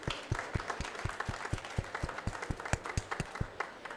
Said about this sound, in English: So let's have a round of applause for everyone,